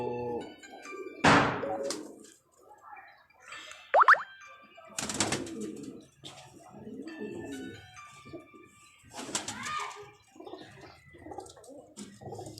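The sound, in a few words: pigeons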